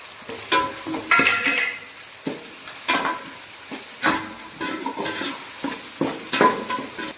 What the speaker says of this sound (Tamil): வெங்காயம் வந்து வதங்கிட்டு இப்போ வந்து இஞ்சி பூண்டு பேஸ்ட் போட்டுக்கணும்